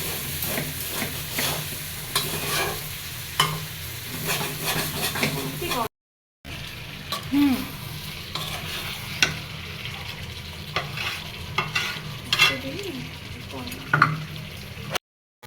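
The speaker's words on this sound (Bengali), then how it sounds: "কষাতে কষাতে আলু" Potatoes sautéed and stirred in a hot pan, a steady close sizzle broken by repeated scraping stirs, with a brief gap of silence partway through and no talk.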